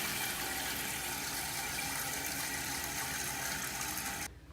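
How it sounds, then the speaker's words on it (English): A toilet tank refills after the water supply is turned back on, giving a steady, loud hiss of rushing water close up that cuts off abruptly near the end. "we have the water filled all the way back up"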